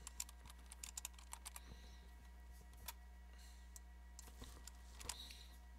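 Someone types a file name on a computer keyboard in 3ds Max 2019: faint, irregular clicks and taps come alone in a quiet room.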